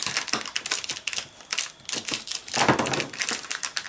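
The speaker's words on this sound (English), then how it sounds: "Bone folder, go over that just a little bit." A bone folder rubs back and forth over a sticky adhesive strip on a paper snowman treat holder, giving a close, steady series of dry scraping and rasping strokes with brief pauses between passes.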